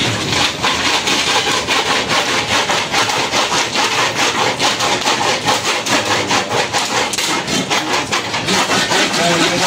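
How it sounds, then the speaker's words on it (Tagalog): A hand saw cuts through a freshly landed blue marlin in rapid, regular back-and-forth strokes, loud and close, with faint background voices at a fishing landing. "Lagari na naman tayo mga katropa."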